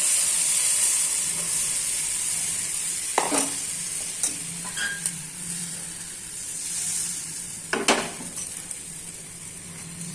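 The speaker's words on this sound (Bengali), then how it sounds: "এই যে ব্যাটারটা আমরা ঢেলে দিচ্ছি" Batter poured into a hot pan for a quick breakfast, giving a steady close sizzling hiss throughout with a few soft scraping and stirring knocks of a utensil, no talking.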